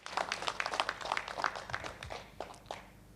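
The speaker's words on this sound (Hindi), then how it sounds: "एक दूसरे के लिए जोरदार तालियाँ" Scattered, uneven clapping from a small seminar audience in a Jaipur restaurant, a few sharp claps at a time rather than a full ovation, moderately loud and fading toward the end.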